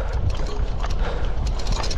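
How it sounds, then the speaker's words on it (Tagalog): Strong headwind in an open, treeless area on a bike tour of Jomalig Island buffets the microphone with a constant low roaring rumble, loud and unbroken throughout. "Kaya napakalakas ng hangin. Headwind."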